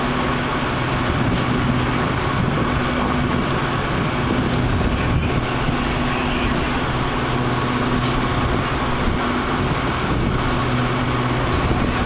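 A METRA commuter train passes through Hinsdale near Chicago, a loud, steady rumble of wheels on rails that holds for the whole stretch, with a low droning hum and no voices.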